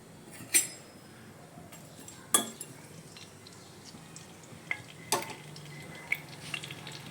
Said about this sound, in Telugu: మనం మసాలా దినుసులు మొత్తం వేసేస్తున్నామండి సాజీరా ఇలం ఇలాచి దాల్చిన చెక్క